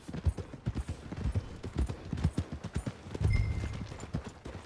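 Horse hooves clip-clop steadily in a close, loud walking rhythm in the Red Dead Redemption 2 video game, with a brief snort near the end and no talking.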